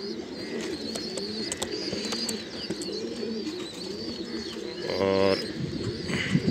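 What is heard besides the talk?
pigeons cooing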